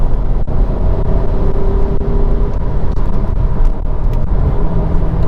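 Cabin sound of a 2019 Audi Q3 with a twin-clutch gearbox driving on a road: a steady, loud low engine drone and road rumble with faint clicks, no talking.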